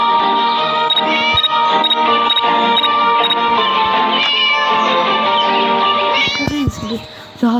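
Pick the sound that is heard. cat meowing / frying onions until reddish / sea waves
cat meowing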